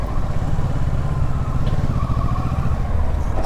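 A Kawasaki Versys 650 motorcycle in second gear pulls away at low speed as the throttle opens, giving a steady, close, loud engine drone with a pulsing low rumble and no voices.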